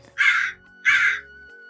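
A crow, a character in an animated Hindi children's story, gives two loud, harsh caws about half a second apart, with a faint, low musical bed and a thin steady tone underneath.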